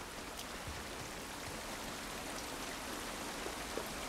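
Steady rain falls outdoors in The Last of Us Part 1, a dense, even hiss of drops spattering surfaces that runs unbroken and fairly loud with no talk over it.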